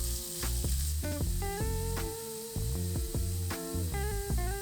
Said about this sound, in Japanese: 全体に油を回したらあまり触らずに焼き色をつけていきます